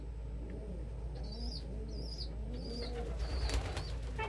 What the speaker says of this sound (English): so many birds fighting over who gets safflower seeds